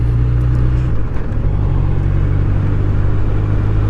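Steady, loud engine drone from a Honda CB1100RS 1140cc four-cylinder motorcycle being ridden, with a brief dip in tone near the one-second mark before the smooth rumble resumes and holds.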